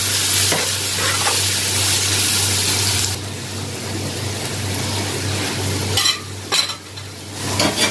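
Coriander, cumin, garam masala and turmeric sizzle in a hot pan as they are stirred for keema aloo. A loud, steady frying hiss sits under scraping strokes, then softens partway through with a few clatters of the spoon.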